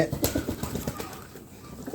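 Pigeons cooing close by, soft repeated throaty coos in a quick pulsing rhythm, with a brief flutter and faint background noise.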